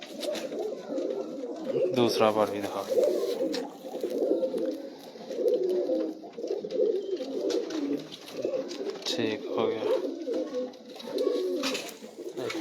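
Old Sialkoti pigeons, including a 16-year-old pure Batera, coo in a steady low murmur throughout, close by, while someone talks over them.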